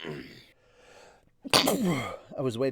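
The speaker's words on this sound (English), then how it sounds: "I've sneezed 6 times in a row, buddy." A sharp, loud sneeze bursts out close to the microphone after a quiet stretch, followed by a person speaking.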